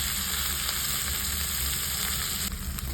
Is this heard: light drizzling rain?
no